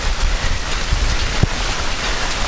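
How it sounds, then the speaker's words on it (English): Heavy raindrops drum steadily on surfaces during a storm at Knob Lick Tower, a dense continuous patter close by with a few sharper, louder drops standing out. "Big old raindrops, my goodness."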